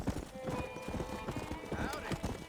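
Rapid clip-clop of horse hooves at close range in Red Dead Redemption, with a whinny rising over the trotting and a voice mixed in.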